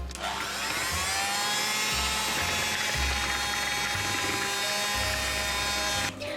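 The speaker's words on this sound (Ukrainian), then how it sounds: "Збиваємо міксером до однорідності." An electric mixer whips semolina lemon cream, giving a steady, close, continuous whirring drone with a rhythmic low pulsing, running without pause until it cuts off at the very end.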